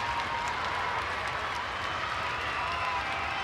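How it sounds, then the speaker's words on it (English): Capacity arena crowd at a 1993 WWE UK Rampage wrestling event in the Sheffield Arena, a steady, dense wash of applause and cheering that fills the space evenly with no gaps. "this capacity crowd here at the Sheffield Arena really getting behind this huge athlete"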